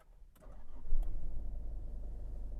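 A 2024 Isuzu D-Max V-Cross pickup with a 3.0-litre engine cranks and turns over, then settles into a steady low rumbling idle, close by and fairly loud.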